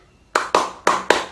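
Four crisp, close hand claps in two quick pairs, forming a classroom ice-breaker clapping pattern, each clap ringing briefly before the next.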